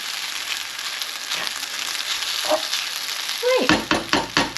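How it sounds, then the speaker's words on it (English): A spoon knocks against a pan of cooking egg fried rice over a steady background sizzle, finishing with four or five sharp, close metallic bangs. "sorry about the banging, but I need to get the stuff off the spoon"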